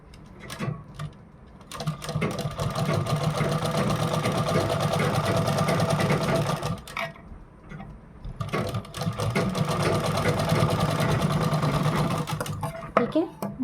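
A sewing machine stitches a boat-neck designer blouse in two long, steady runs of rapid whirring, close and loud, with a short pause between them and a few clicks of handling at the start and end.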